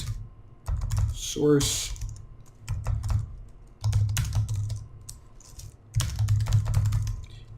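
Rapid clattering bursts of typing on a computer keyboard while entering Python code, several keystroke runs separated by short pauses, close and fairly loud, with a brief spoken word partway through.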